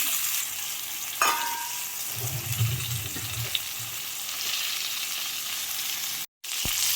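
Mashed raw mango mixture frying in a pan for a mango curd gojju, producing a continuous close sizzle with a few scraping stirs and a low rumbling patch midway, ending with a brief cut.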